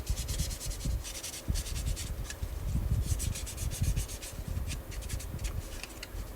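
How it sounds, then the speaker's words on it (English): A cheap sanding stick worked over the body of a 1/24 scale Audi Sport Quattro S1 model kit, soft close scraping strokes in a steady back-and-forth rhythm. "I use my cheap sanding stick from China"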